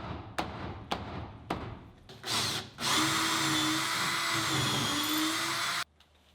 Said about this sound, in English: I fastened it with just a couple screws.